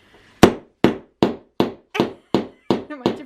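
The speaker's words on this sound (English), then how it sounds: "I've taught her the joys of rivet setting, but with a little hammery thing" A small hand hammer setting rivets, striking eight sharp, evenly spaced blows at roughly half-second intervals, close and loud with quick decays and silence between strikes.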